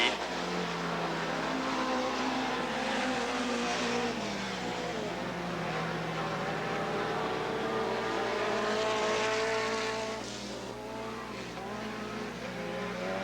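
Four-cylinder race cars on the final lap of an Open Comp trophy dash at Southern Oregon Speedway, engines droning and revving steadily at a distance with shifting pitch as they pass around the oval.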